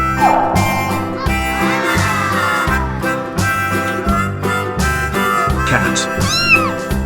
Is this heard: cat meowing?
yes